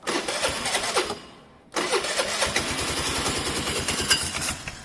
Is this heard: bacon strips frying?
no